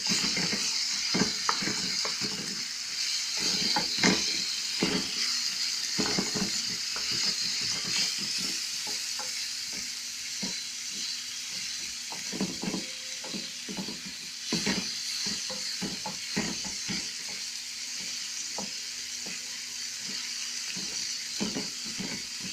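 Onions and green peppers sizzle steadily in a hot frying pan, a close, continuous crackle broken by frequent scraping stir strokes.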